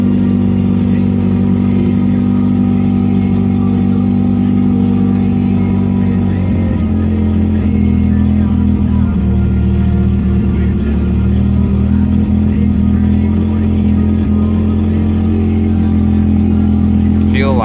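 An old car engine with a broken choke runs loud and close, a steady rough idle with some uneven surging as it is nursed along, voices talking over it.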